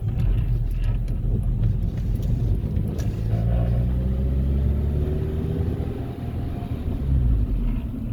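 A Honda D16Y8 engine in a car coming to a stop, its idle sagging very low; a close, continuous low rumble with slowly shifting engine tones and no speech.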